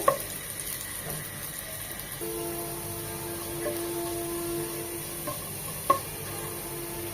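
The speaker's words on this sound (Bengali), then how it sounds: "আদা রসুনটা ভালোভাবে ভেজে নিতে হবে যতক্ষণ না রসুন কুচি একদম লাল লাল হয়ে খুব সুন্দর একটা সুঘ্রাণ চলে আসে" Minced garlic and ginger frying in oil in a pan, a soft steady sizzle with a faint tonal hum and a couple of light utensil taps near the start and end.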